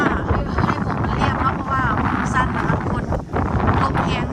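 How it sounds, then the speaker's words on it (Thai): Strong, cold wind gusts across the microphone outdoors near boats, a heavy rumbling buffet throughout with a voice talking over it. "ทั้งหนาว ทั้งลมแรงเลยพี่น้อง"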